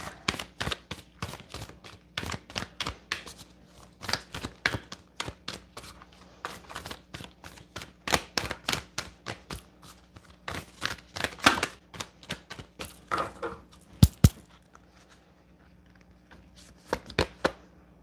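Tarot cards are shuffled and riffled close up in repeated clusters of rapid flicks and taps, with short pauses between bursts.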